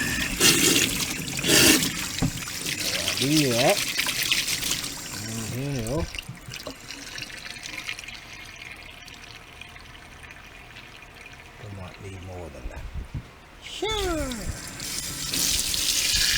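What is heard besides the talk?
water running from pump and pipes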